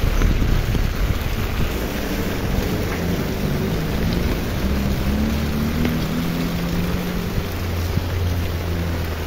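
A heavy downpour pours over flooded streets in Recife, a loud, unbroken wash of rain with low rumbling undertones and faint tonal hums, steady throughout.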